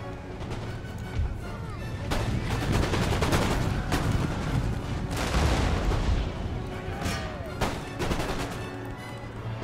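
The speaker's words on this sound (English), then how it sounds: "Firing round shot at the full artillery." Artillery firing round shot in the Empire: Total War video game, a dense barrage of booming gunfire with repeated sharp blasts over about ten seconds, loud and continuous, with battle noise filling the gaps.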